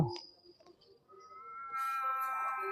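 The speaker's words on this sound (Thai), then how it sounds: "มันเป็นแมวประจำถิ่นแถวนี้นะ" A local street cat in Bang Saen meows near the microphone, a soft early sound followed by a longer, rising, drawn-out meow, with no voices.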